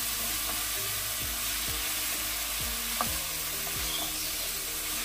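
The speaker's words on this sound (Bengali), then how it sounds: "চলো এবার মিক্সটাকে দিচ্ছি। হালকা আছে ভেজে ভেজে ভাজতে হবে।" A spice mix with whole cumin frying in a pan, a continuous close hiss and sizzle with occasional soft scrapes and stirring knocks under it, no voices.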